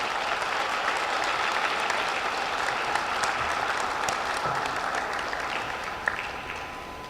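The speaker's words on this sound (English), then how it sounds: "an enthusiastic round of applause for everyone who has supported you to get here" Enthusiastic applause at a senior awards night, a big crowd clapping in a continuous, full roar with a few sharper individual claps standing out, steady and fading slightly at the close.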